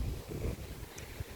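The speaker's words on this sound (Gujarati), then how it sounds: "ચાલો તમને દેખાડીએ કેટલો પવન આવે છે" Late-evening wind gusts buffet an outdoor microphone in a low, rumbling roar that swells and dips unevenly, with no other clear sound.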